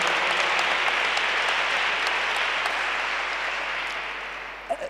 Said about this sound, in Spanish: Se merece, claro que sí, ese aplauso también, Rodrigo.